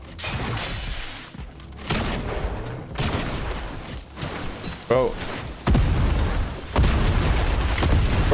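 Grenade explosions in Fortnite, a series of heavy booms and blasts in quick succession, loud and close, mixed with scattered impacts and mechanical clatter.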